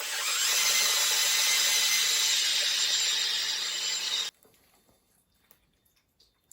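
Power drill with a 4 mm bit boring into a stuck bolt, a loud steady whine and grinding for about four seconds that stops abruptly, followed by faint handling noises.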